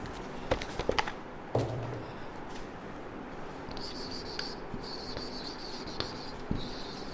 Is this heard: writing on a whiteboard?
yes